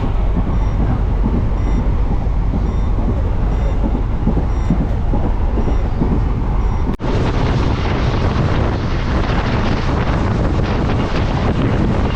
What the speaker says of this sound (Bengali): তার আগে প্রচণ্ড স্পিড নিয়ে নিল আমাদের ট্রেন।